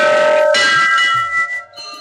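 Large metal temple bells at a Shiva temple ring loudly close up, one strong strike sustaining a shimmering, slowly fading tone before a softer ring follows.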